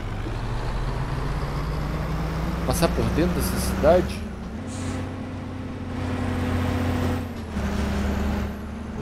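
Truck in a driving simulator game with engine drone and air-brake hisses, plus rising whine sweeps mid-clip, under someone talking throughout.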